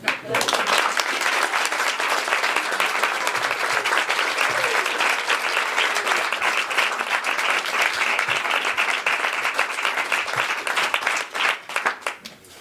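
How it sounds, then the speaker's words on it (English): A wedding crowd applauds steadily and warmly for several seconds, the clapping dense and continuous before tapering off at the end. "we'll give you a round of applause"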